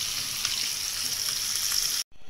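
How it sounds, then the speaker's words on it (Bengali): Rohu fish frying in a pan gives a steady, close, loud sizzle that runs unbroken for about two seconds, then cuts off abruptly into near silence. "রুই মাছ একটু ফ্রাই করতেছি"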